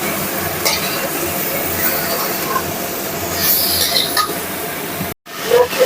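Potato, pumpkin and pointed gourd frying on a low flame in a covered pan, a continuous close hiss with faint stirring, cut by a brief silence near the end before sizzling resumes.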